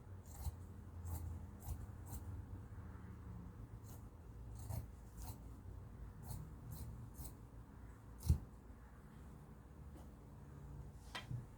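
Scissors cut through a shirt fabric in a series of crisp, quiet snips spaced irregularly across a hushed room, with one sharper click partway through.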